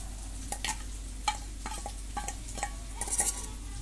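Spices are stirred into yogurt with a utensil, giving repeated soft scraping and clinking strokes in an irregular rhythm, close by and fairly quiet against a steady background hiss.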